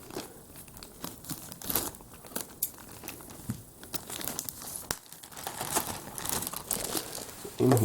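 Sealed plastic bag of LEGO pieces being cut and pulled open up close, with irregular crinkling and tearing bursts and scattered crackles, fairly quiet with no talking.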